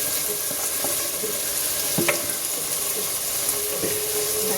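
Cooked manathakkali greens for kootu are mashed and stirred in a pan, giving a steady wet sizzling hiss with occasional soft scraping knocks, close and continuous.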